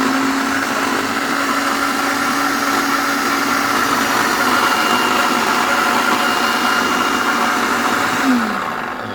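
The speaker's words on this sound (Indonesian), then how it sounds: "Lalu kita akan coba di blender Mito BL111." A Mito BL111 blender runs on speed 1 with a loud, steady motor whir and hum, continuous and close, winding down slightly at the end.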